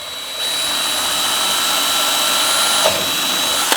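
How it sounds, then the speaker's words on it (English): An electric drill whines steadily at close range, boring through the fiberglass gel coat of a car body panel in a constant high-pitched buzz. "Don't push, let the weight of the drill take it through, because the fiberglass itself cuts very easily."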